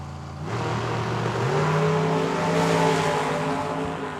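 Drag race cars, a Chevrolet S10 and a clean 1984 Camaro, launch together at Tucson Dragway, engines roaring loud and close as the revs climb steadily over several seconds.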